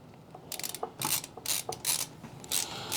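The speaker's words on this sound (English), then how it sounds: "we're just screwing in the power supply." A screwdriver drives screws to mount a power supply into a PC case during a computer build, a series of close, sharp ratcheting clicks and scrapes in uneven bursts, with no talking.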